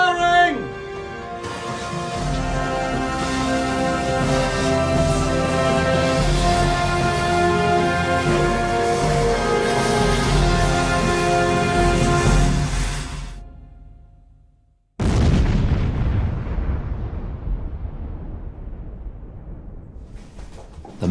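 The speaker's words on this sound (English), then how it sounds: "To get the explosion sort of propagating out into the rock, we need to block up the hole." An explosive charge blasts rock inside a mine: after a stretch of music and a brief hush, one sudden loud boom erupts and its rumble decays over several seconds.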